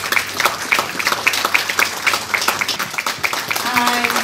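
A crowd at a jazz club's 40th anniversary celebration claps for someone invited up, scattered, moderately loud applause with distinct individual claps, and voices talking over it toward the end.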